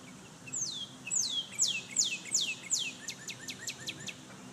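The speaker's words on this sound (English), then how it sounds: "I'm just listening to a bird chirp." A single red bird chirps in a quick series of bright, descending notes, then shorter rapid tweets, fairly close against quiet outdoor background.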